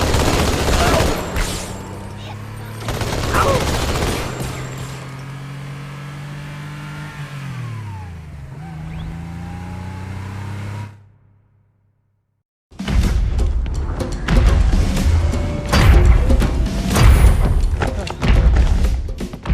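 Rocket fire and explosions in Halo 2 gameplay: loud bursts and thuds over a droning vehicle engine, a brief silent gap, then a dense barrage of blasts and gunfire with voices mixed in.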